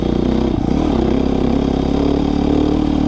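A Beta motorcycle engine idles steadily up close, with an even, continuous low rumble and no voices. The hanging-idle fault has been cured since the throttle body position settings were changed.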